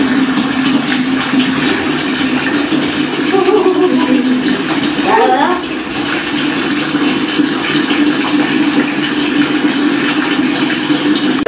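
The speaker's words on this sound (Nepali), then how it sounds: "एकछिन एकछिन भरिँदैछ पानी" Water filling up a container, a loud continuous rushing gush that holds steady for the whole stretch with a brief dip midway, no talking over it.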